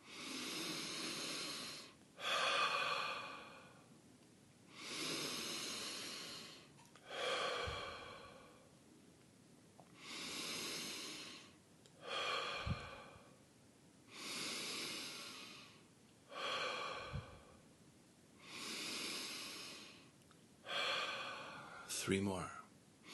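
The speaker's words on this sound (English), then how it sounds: "breathing in through the nose and out through the mouth" Slow guided meditation breathing, in through the nose and out through the mouth, repeats about eight times in long, even, close breaths with soft hissing exhales and quiet pauses between.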